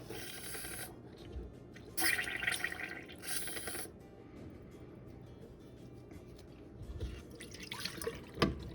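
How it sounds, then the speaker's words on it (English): Water gurgles and drips in short bursts as a bulb syringe forces it through a fountain pen feed, with spurts through the narrow passage and quieter trickling between them. "We'll insert it into the back end of this and just try to force some water through the feed"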